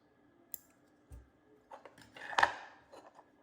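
Scissors trim sewing thread while a bobbin is loaded at a sewing machine: a couple of quiet, close snips and small clicks in an otherwise still room.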